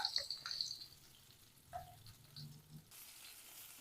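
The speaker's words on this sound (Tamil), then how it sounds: "இப்போ கொஞ்சம் நல்லா வெங்காயம் வதங்கி வரட்டும்." Faint sizzling of sliced onions sautéing in oil in a pan, with a soft crackle and occasional light stirring noises, no talking.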